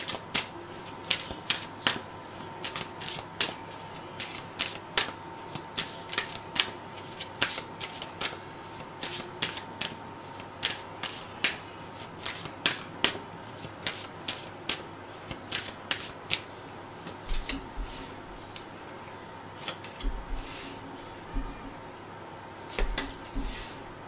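Tarot cards being shuffled in a reading session, crisp riffling and snapping bursts repeating steadily at close range over a quiet background, with occasional soft speech.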